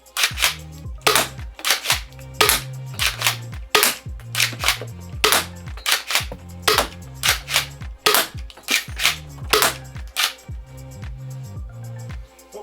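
A foam dart blaster fires a rapid series of sharp, loud shots into a pegboard, each crack followed by a brief mechanical cycling sound, with no one speaking.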